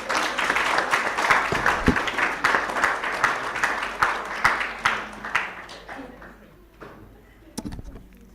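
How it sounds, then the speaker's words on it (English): An audience applauds at a child justice conference, with a dense burst of clapping that gradually thins into scattered claps and fades near the end, followed by a few isolated claps. "Another round of applause."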